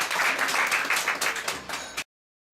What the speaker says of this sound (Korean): 박수 한번 제가 먼저 보내드릴게요